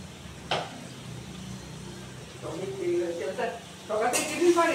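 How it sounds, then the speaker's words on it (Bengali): Prawns frying in hot oil in a home kitchen, a soft sizzle that swells after a couple of seconds, with clinks of utensils against the pan and a sharp scrape near the end. "চিংড়ি মাছটা দিয়ে দিচ্ছি, তেলটা গরম হয়ে গেছে আমার। চিংড়ি মাছটা ভাজা হোক।"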